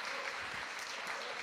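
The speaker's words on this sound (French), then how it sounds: "sous vos applaudissements" Audience applause at a municipal presentation on an all-homemade school canteen in Île-de-France, a steady, fairly quiet wash of clapping throughout.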